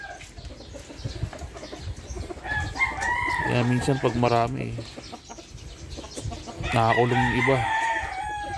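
Chickens cluck and a rooster crows twice in a small backyard pen beside a house, the crows loud and close with softer clucking and wing sounds between, and someone talking throughout.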